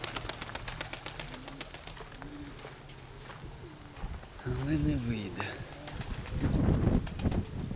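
Soft pigeon coos drift in the background while someone talks over them, followed by a burst of low rumbling noise near the end.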